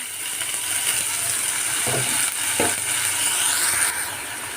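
Chopped banana stem (unnipindi) frying in a pan, heard as a steady bright sizzle with a couple of soft scraping stirs partway through, close and continuous with no voices.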